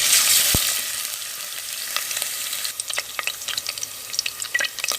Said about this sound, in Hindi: अब हम इसमें अदरक लहसुन का पेस्ट डाल दिया है हमने।